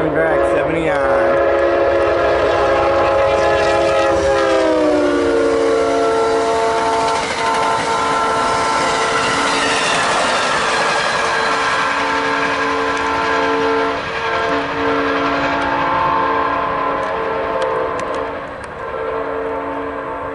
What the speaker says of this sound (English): here comes another train. AMTRAK 79.